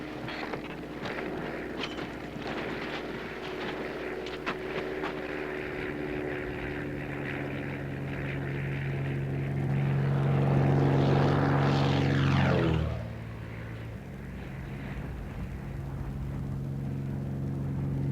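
A small propeller airplane flies in low over a hill, its droning engine steady at first, then swelling louder as it passes close overhead before the pitch drops sharply and the sound fades away.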